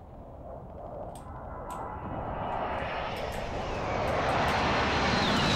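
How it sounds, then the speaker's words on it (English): Airplanes fly overhead in the video game Call of Duty: Warzone, a steady broadband engine roar that swells gradually louder over several seconds with no talk. "Whilst the planes are flying over"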